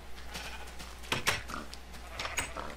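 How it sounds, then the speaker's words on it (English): Several pigs in a Minecraft world give short game-style oinks and grunts, a few distinct calls spread over a steady low background hum with no talking. "Why is there so many pigs in here?"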